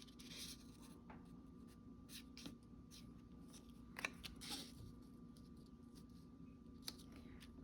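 Scissors cut an index card in half. The crisp snips and light paper scraping are faint and close in a quiet room.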